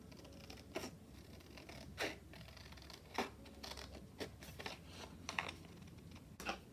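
Scissors snip through Stamperia Botanic paper for a junk journal, about a half-dozen faint, close, crisp cuts at uneven intervals over a quiet background.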